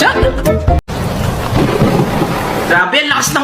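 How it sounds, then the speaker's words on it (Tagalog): A heavy thunderstorm pours down with loud, dense rain and rumbling thunder, filling the whole stretch apart from a brief cut, with voices briefly in the mix. "Grabe, ang lakas ng ulan."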